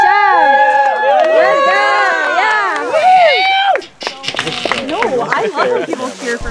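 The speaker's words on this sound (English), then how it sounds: "I love when people cheer for me." People cheering on a bike path during an outdoor adventure fitness class, loud sustained whoops and yells from a nearby group, then breaking into scattered shouts and talk.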